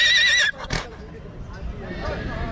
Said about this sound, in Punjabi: ਅੱਛਾ ਜੀ, ਚੰਬੀ ਘੋੜੀ